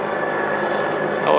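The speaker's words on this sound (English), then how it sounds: "Helicopter with the Bambi bucket of water." A helicopter carrying a Bambi bucket of water over forest near Port Alberni, where small wildfires are burning, gives a steady, loud, broadband rotor-and-engine drone that barely changes across the moment.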